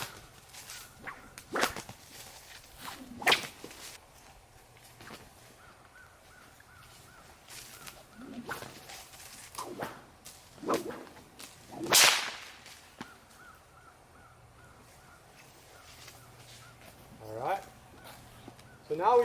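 Cow whip cracks sounded repeatedly around a horse outdoors, a string of sharp snaps of varying loudness spread over the stretch, with crows cawing in the background and occasional footsteps.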